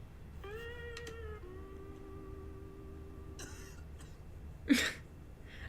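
A few drawn-out, whining, meow-like tones over a low hum, then one short, rough cough bursts out loudly near the end.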